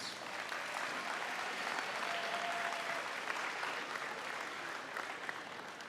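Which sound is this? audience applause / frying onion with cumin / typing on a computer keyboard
audience applause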